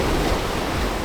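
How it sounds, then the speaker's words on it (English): Wind and waves at sea during the gale-force 2024 Sydney to Hobart yacht race make a steady, loud broadband roar. It is dense, wind-buffeted noise without pause or voices. "The wind's definitely increased in just the time that we've been out here."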